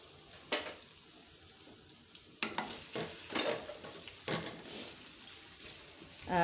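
Finely chopped onions dropped into hot oil, with a quiet frying hiss broken by several sharp bursts and crackles at irregular intervals, close and fairly faint.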